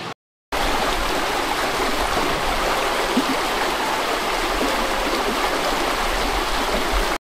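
Water rushes over the small waterfall at the Massard watermill in a steady, loud, close roar of broadband flow, starting after a brief silent gap and continuing without pause.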